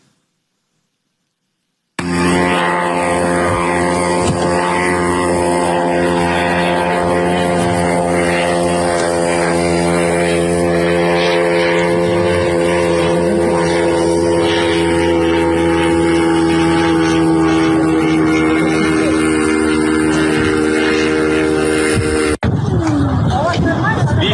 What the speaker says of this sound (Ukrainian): як пролітає дрон ймовірно в сторону російського аеродрому